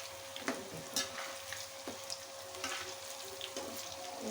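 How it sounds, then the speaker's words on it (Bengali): Cauliflower pakora frying in hot oil, a soft continuous sizzle with faint scattered pops and light stirring scrapes, fairly quiet and steady throughout. "দেখো বন্ধু কত সুন্দর ভেজে নেওয়া হচ্ছে।"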